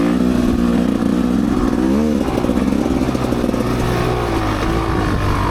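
A Rieju MRPro 300 dirt bike ridden on a sandy woodland trail among pine trees gives a loud, close, continuous engine drone that dips and rises in pitch as the throttle changes, with rattling clatter throughout.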